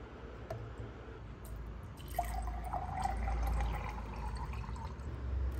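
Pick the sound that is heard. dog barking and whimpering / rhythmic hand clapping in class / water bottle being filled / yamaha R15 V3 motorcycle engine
water bottle being filled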